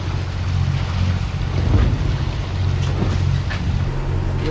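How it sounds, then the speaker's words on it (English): A boat motors at sea at night in the lee of an island, its engine a steady low drone under rushing wind and water noise, continuous and fairly loud with no voices. "we are motoring right now because all of the wind is coming from here and it's being blocked by this island"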